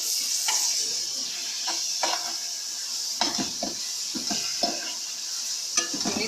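Minced meat cooks with softened onions in a pan for Shinwari-style khara masala keema, with a continuous sizzle broken by repeated scraping and clinking spatula strokes at an uneven rhythm.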